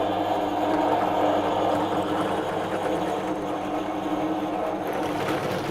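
A countersink bit spins to clear burrs from wood in a wooden box project, producing a loud, continuous buzzing whir that holds steady throughout without pauses.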